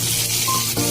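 Fish frying in hot oil gives a close, loud, continuous sizzle with a brief sharper crackle near the end.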